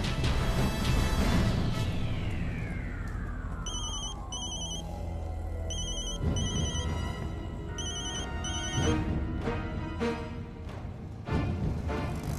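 A telephone ringtone plays repeatedly in a melodic electronic pattern, clear and prominent over a dramatic music bed with a sweeping tone, in a Hindi TV serial scene.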